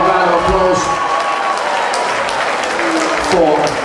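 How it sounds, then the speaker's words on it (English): A crowd at an amateur boxing show claps for both fighters after a drawn bout, a loud, busy patter of hands with voices mixed in underneath. "Give a round of applause"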